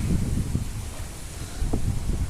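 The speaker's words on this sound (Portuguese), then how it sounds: "Nossa, tá muito forte o vento." Strong wind blows steadily outdoors, buffeting the microphone with a constant low roar and rustle, rising and falling in gusts with no speech.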